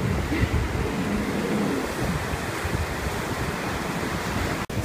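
Large sea waves wash continuously onto a sandy beach, giving a steady surf roar mixed with wind rumble against the microphone. No voices are heard.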